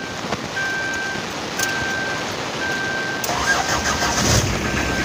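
A Kia engine cranks and catches, then settles into a steady idle, heard close with a faint whine above the rumble and no speech.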